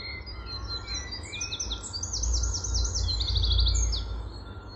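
Birds sing nearby in bright, repeated chirping phrases over a steady low rumble of background noise.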